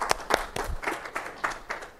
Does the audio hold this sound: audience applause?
yes